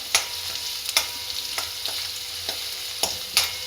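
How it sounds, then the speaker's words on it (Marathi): Onion fries in a pan with a steady low sizzle while a utensil scrapes and taps the pan at irregular intervals, close up, with no voices. "थोडासा कांदा होऊ द्यायचा"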